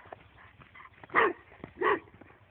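A dog barks twice, a second apart, clear and fairly close over faint background murmur.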